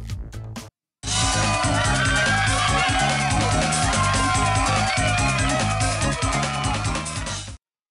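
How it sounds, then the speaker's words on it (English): Loud cheering crowd from the video game Lemmings Revolution: a dense, sustained roar of voices and whistles at steady volume for about six seconds after a brief gap, then a sudden cut-off. "I'll try to avoid like not speaking while the cheering is going on because it's super super loud"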